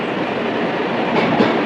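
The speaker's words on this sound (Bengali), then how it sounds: "বুলেট ট্রেনে করে আমরা এখন আছি।" The interior of a Japanese bullet train near Hiroshima on Honshu carries a steady, loud broadband rushing roar of high-speed travel, constant throughout with slight swells near the end.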